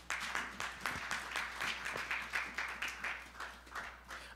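A church congregation claps together in a quick, even rhythm, the applause fairly faint and steady across the hall.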